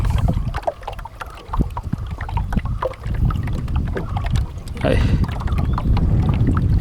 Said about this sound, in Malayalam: നമ്മൾ ചങ്ങാടത്തിൽ തുഴഞ്ഞ് അക്കരയ്ക്ക് പോവുക